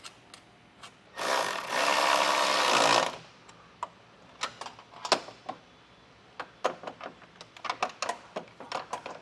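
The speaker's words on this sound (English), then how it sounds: "we're gonna go back through with our wrench and get everything tightened down" A wrench tightens fasteners on the nerf bar brackets of a Westin PRO TRAXX oval nerf bar install on a 2024 Jeep. A loud, steady two-second mechanical whir is followed by a run of sharp, separate clicks and taps.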